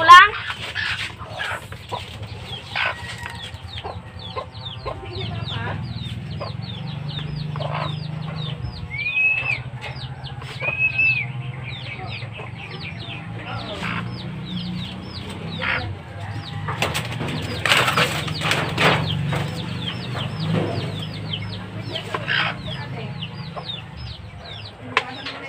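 A new gamefowl breeder clucks steadily with other chickens, including rooster-like calls, amid scattered wing flaps and nearby barnyard noise, with voices around.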